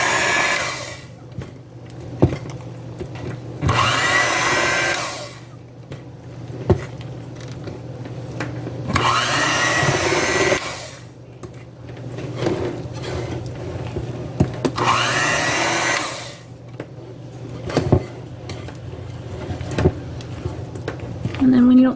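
A kitchen appliance pulses banana bread batter in short bursts: several loud, close whirring runs of a few seconds each, separated by pauses with knocks and talk.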